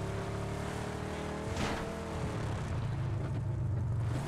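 A vehicle in the PUBG battle royale game drives past, a steady engine hum that swells briefly mid-pass and then carries on at a similar level as it moves away.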